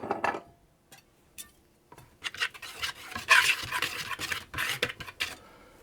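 Baking powder, salt and sugar being mixed together in a bowl, heard as quiet intermittent scraping and rubbing strokes with short pauses between them and no voices.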